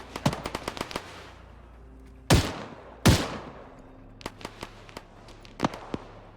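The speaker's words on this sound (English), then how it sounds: "And then you have these guys up here getting shot." Gunfire in the military shooter Arma 3: bursts of sharp rifle shots crackle in quick runs, with two louder, heavier booming reports in the middle and scattered single shots afterward.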